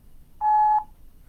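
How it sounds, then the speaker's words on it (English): A single steady electronic beep marks the start of a voicemail recording, clean and fairly loud for under half a second against a quiet line. "At the tone, please record your message."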